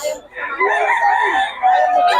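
Chickens cluck and squawk close by at a market in Bocaue in a continuous, busy chorus, with a crowing call rising over the din.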